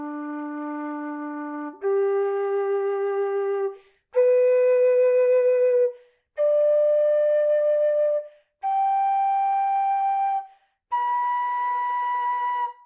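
A Sopros low D or low F tin whistle plays six sustained notes stepping upward one after another, each clear and breathy with a brief gap between, close and alone without voices.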